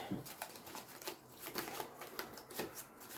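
A deck of Marvel Crisis Protocol cards in sleeves is shuffled by hand, giving quiet, close, irregular riffling and tapping bursts with brief pauses between them.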